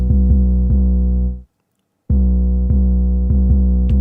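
A warm, slightly distorted hip-hop beat with tape-like saturation plays, drops out briefly to silence, then comes back with the same pattern.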